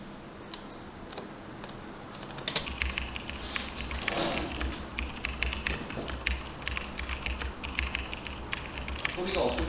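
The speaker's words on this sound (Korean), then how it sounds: "키보드 타이핑 음을 넣어놨거든요" Dense computer keyboard typing, a steady run of quick clicks and taps that thickens after the first couple of seconds, close and fairly loud, with no one talking over it.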